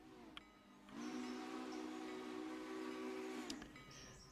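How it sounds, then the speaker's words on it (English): A train's steam whistle in the railway video game Railroader sounds as one loud, steady, held tone of about two and a half seconds over a hissing background, with a faint short toot just before it. "Where are you, train?"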